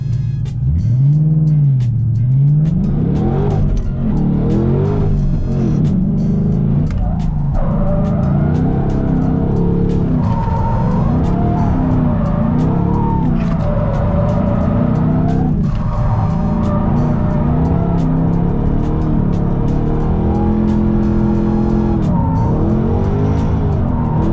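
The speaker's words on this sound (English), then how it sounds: "when I'm ready to flick it in, little weight transfer, handbrake back on throttle, and then I'm just modulating throttle and handbrake through the turn" A Ford Mustang drifts with the handbrake, its engine revving hard and rising and falling as the throttle is modulated, while tires squeal and skid loudly and continuously through the turn.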